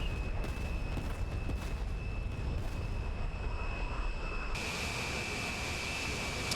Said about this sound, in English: So the planes are flying through zone 1.